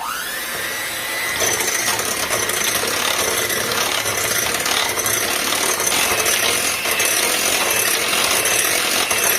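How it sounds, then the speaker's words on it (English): An electric mixer beats a heavy cream mix with vanilla for a banana pudding pie, giving a loud, steady motor whir that runs unbroken through the whole stretch with no talking. "Now with an electric mixer, you're going to beat the heavy cream mix until soft peaks form."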